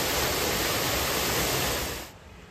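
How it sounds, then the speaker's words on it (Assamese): Lokhla waterfall near Cherrapunji roars as a dense, steady broadband rush that fills the scene, then drops off abruptly near the end to a quieter hiss. "এয়াই হৈছে লোখলা ফলছ"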